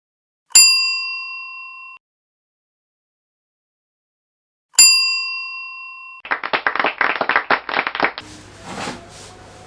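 Two bright bell dings ring out a few seconds apart, each sustaining and fading alone, followed by a burst of clapping-like applause and a brief whooshing effect.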